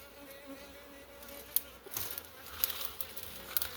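A swarm of bees being shaken and handled buzzes softly and steadily in the background, with a few close knocks and rustles.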